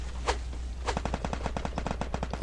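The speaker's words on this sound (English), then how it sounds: "Someone's shooting." Rapid bursts of gunfire in the Free Fire battle royale video game, a single shot followed by a fast, steady automatic volley of sharp cracks, loud and close with no talk.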